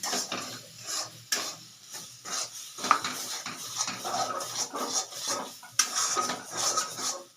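Spoon scraping and clinking against a pan while pea kachori filling is stirred and dried into a dough, with soft sizzling underneath; steady, close stirring strokes with sharper metallic knocks.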